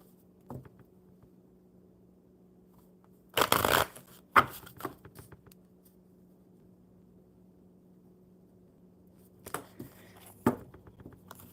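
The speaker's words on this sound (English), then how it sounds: "I am shuffling the cards for you, Old Do, and I will wait for your question." Tarot cards are shuffled in a few short, crisp bursts of riffling separated by long quiet gaps, close and soft with no talk.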